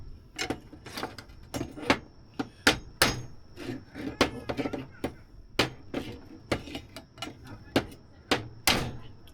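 A giant mudcrab is struck repeatedly with the back of a knife outdoors, giving a dozen or so sharp, close knocks at an uneven rhythm, with quiet background noise between hits.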